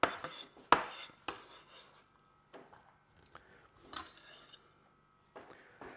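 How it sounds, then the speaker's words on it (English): A kitchen knife slices through an onion on a cutting board, giving several sharp, separate cuts and scrapes spread irregularly over a few seconds, up close in a quiet room. "You're just slicing through."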